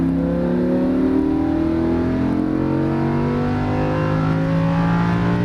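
A Lamborghini Huracan accelerates hard on a racetrack, its engine note climbing steadily in pitch as the revs build under full throttle, loud and close throughout.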